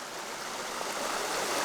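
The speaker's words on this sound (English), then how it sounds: "Here's the creek at the top of the falls." A creek at the top of a waterfall, running with little water, flows in a steady, close, broadband rush of water with no voices over it.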